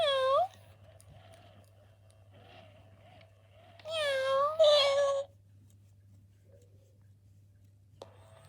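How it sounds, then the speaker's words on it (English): A robotic companion tabby cat toy with Persian-like fur gives several distinct meows when stroked: one short call at the start, then two longer rising-falling meows back to back midway, near and clear against a faint steady hum. "So we'll compare what cats are like when they're being stroked."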